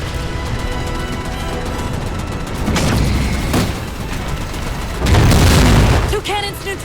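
Cannons blown apart in the Halo 4 video game campaign, heavy booming explosions with dense rumbling bursts rising in two loud surges over continuous battle noise, with game voices talking.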